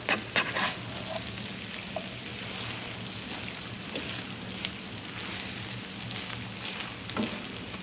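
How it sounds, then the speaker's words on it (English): An egg frying in a reheating pan gives a soft, steady sizzle with faint crackles and a few small clatters near the start. "The pan is starting to heat up again. See the egg at the bottom of the pan."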